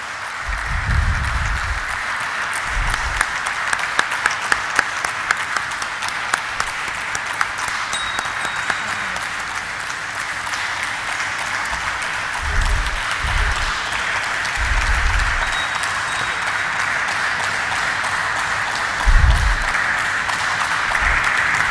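Applause for the chairperson at a hotel company's stock listing ceremony, arriving in sustained waves of clapping from an audience, with a few sharp isolated claps and low thumps between bursts.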